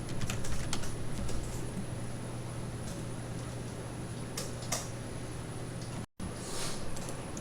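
Computer keyboard keys tapped while entering CAD commands for a 2D injection-mold drawing, a light steady run of clicks and keystrokes over a faint background hum.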